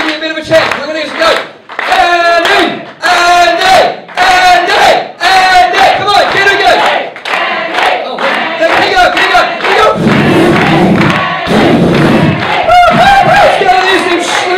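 A stand-up comedy audience claps and cheers together, a loud dense roar of crowd noise with rhythmic clapping bursts and shouting running throughout, growing into sustained applause toward the end.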